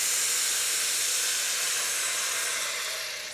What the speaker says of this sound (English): we're giving it a bit of love by slowly cooking those onions there, slowly cooking that carrot